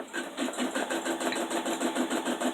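An embroidery machine stitching the first placement line of an in-the-hoop Easter table runner gives a steady, rapid mechanical whirring with a regular pulsing rhythm, close and continuous, with no talking.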